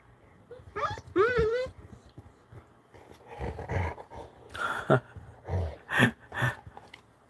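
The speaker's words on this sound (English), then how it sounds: "Are you barking at Dad?" A dog barks, yips and whimpers in short excited bursts close by, mixed with a person talking.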